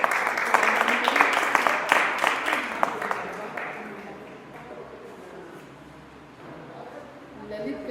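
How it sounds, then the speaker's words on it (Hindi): An audience at an art exhibition closing ceremony claps to welcome a guest. The applause is strongest at the start and fades away, leaving quieter background sound and some talk near the end. "ताली स्वागत करते हैं।"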